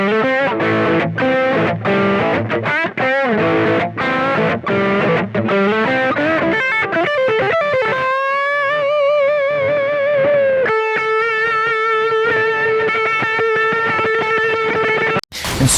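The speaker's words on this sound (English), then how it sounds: "Dirty tones like this." Heavily distorted electric guitar through a Boss GT-100 effects unit plays a choppy riff of rapid chords, then shifts into sustained, singing lead notes with bends, loud and up front.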